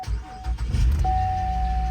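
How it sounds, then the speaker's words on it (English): A 2008 Buick Enclave engine starting and settling into a low idle rumble, with a steady electronic tone sounding over it at the start and again near the end. "Right now the car starts fine."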